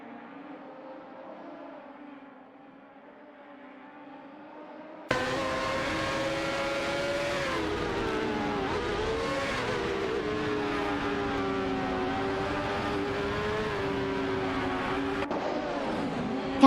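Race cars in a video game race howl along a straight, one car drafting behind another. A quieter engine drone gives way after a few seconds to a loud, continuous multi-engine whine with shifting pitch.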